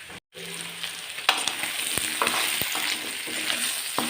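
Pork sizzles and fries steadily in a pan for Assamese dry-fried pork, a continuous close hiss broken by a few sharp crackles and spatters, with no talking.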